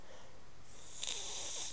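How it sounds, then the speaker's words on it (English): A brief, soft nasal sniff from someone with a cold, breathy and close, rising toward the end against quiet background. "Excuse me, sniffing problem, got a cold."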